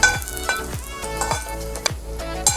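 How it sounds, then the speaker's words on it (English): Onion sautéing in a frying pan for a sweet and sour fish dish, a steady close sizzle broken by repeated scraping stirs of a utensil against the pan, with no voices. "We'll saute the onion until soft."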